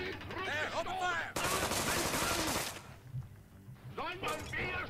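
Gunfire in the South Park video game bursts out as a dense, loud rattle of rapid shots lasting about a second and a half, with shouting and character voices before and after.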